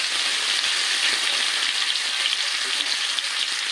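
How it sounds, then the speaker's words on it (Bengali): Chicken pieces fry in four tablespoons of hot oil in a wok, giving a bright, steady sizzle and crackle that runs continuously and close up. "চিকেনটা ফ্রাই করে নেওয়ার জন্য আমি কড়াইতে 4 টেবিল চামচ তেল দিয়ে দিলাম। তেলটা গরম হতেই দিয়ে দিলাম চিকেনটা।"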